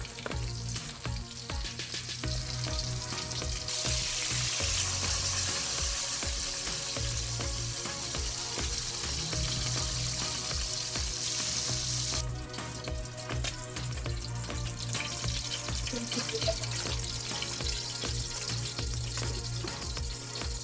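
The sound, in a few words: milkfish (bangus) frying in a pan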